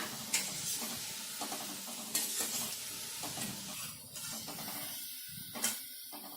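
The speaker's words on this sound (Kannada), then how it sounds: "ಎಲ್ಲ ಕಡೆ ನಾವು ಚೆನ್ನಾಗಿ ಗೋಲ್ಡನ್ ಬ್ರೌನ್ ಬರೋವರೆಗೂ ಫ್ರೈ ಮಾಡ್ಕೊಳ್ಳೋಣ" Pakoda fritters deep-frying in hot oil until golden brown give a steady, moderate sizzle, broken by intermittent scrapes and clinks of a metal spoon turning them in the pan.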